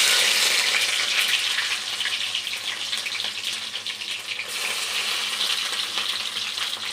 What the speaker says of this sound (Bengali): রসুনটাকে ভাজা ভাজা হবে